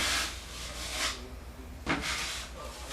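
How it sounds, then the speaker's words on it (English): A drywall knife spreads a skim coat of mud over a drywall patch, giving soft, breathy scraping strokes in a steady rhythm, close and fairly quiet, with no talk. "And now I'm coating the entire patch area."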